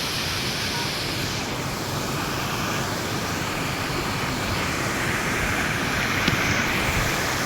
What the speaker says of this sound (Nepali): यो झर्ना लास्ट चाहिँ खतम रहेछ